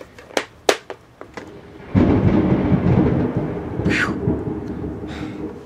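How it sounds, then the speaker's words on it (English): A thunderstorm brings several sharp, close cracks of thunder in quick succession, then a loud, sustained rumbling roll with steady heavy rain underneath. "Good time to catch some thunderstorms on video."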